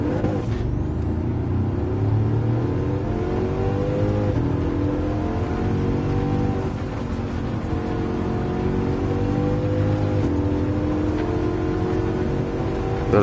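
A Bugatti Chiron '16 hypercar in Gran Turismo 7 on the Monza circuit, its engine accelerating with a loud, sustained rising drone that sweeps through gear changes.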